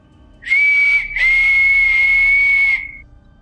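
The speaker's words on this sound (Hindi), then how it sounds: "किसी के सीटी की आवाज मेरे कानों में आती है" A single sharp whistle, a sound effect in a horror story, holds one high steady pitch, breaks off briefly, then carries on for about two seconds before it fades, loud and alone.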